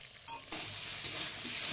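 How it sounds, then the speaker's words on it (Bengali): Drumsticks (sajne data) dropped into a pan of fish curry masala with chilli powder, starting with a brief clatter and then a steady bright sizzle, close and moderately loud, with no speech. "এবার সজনে ডাঁটাগুলো দিয়ে দিচ্ছি"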